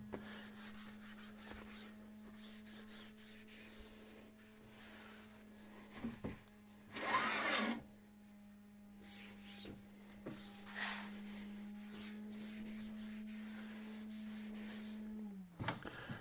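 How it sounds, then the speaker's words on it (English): A rag soaked with WD-40 wipes down a woodturning lathe: faint, brief rubbing swipes, one longer scrub in the middle, over a steady low motor hum in a quiet shop. "a few of these rags around with already WD-40 in it, which is great for cleaning like this."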